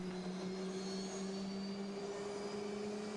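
An F/A-18C jet engine idles on a carrier deck in the Falcon BMS flight simulator, giving a steady, unbroken whine over a low tonal hum that holds constant throughout with no talking.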